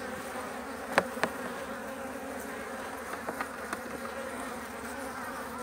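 Honey bees buzz around an open hive during an inspection, a soft continuous hum with a few brief louder passes of individual bees flying close by.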